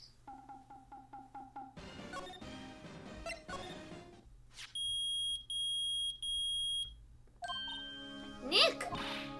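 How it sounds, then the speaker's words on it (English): Metal detector beeping in the Ace Attorney video game, heard as three loud, steady electronic beeps in a row amid game music and chimes, with a short burst of sound effects afterward. "It's beeping! The metal detector's found something! Sure is loud enough about it."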